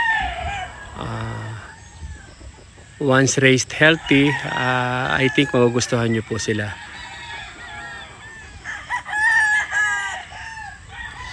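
A rooster crows among clucking chickens while someone talks over them, the birds close and loud.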